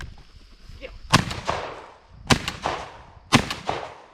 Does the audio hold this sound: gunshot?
yes